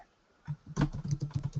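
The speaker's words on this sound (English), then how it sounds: "I think your keyboard sound is reflecting to us." Rapid keyboard typing picked up over an online call, a burst of close clicky keystrokes in an uneven rhythm after a short quiet start.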